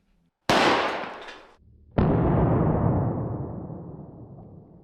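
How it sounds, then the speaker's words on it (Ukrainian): A carbine loaded with shot fires a single loud, sharp report that decays quickly, followed about a second and a half later by a second powerful blast with a long, rolling tail fading over several seconds outdoors. "Вистріл був сильним, і карабін живий."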